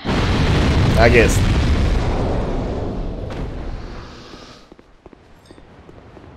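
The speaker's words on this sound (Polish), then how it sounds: "Może teraz wybuchną." Gunpowder barrels exploding in the video game Dark Souls 2, a loud rumbling boom that fades over several seconds into quieter debris sounds, with someone speaking briefly over it.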